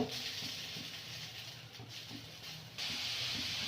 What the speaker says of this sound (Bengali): সবজিগুলো ভেজে নেব।